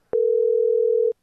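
A telephone dial tone sounds after the caller hangs up on a radio call-in line: one steady, unbroken tone lasting about a second, alone and clear.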